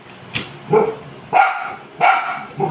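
Several dogs bark noisily and repeatedly nearby in a quick irregular series of loud sharp barks, with a short yip mixed in.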